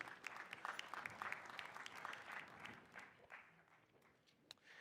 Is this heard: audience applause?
yes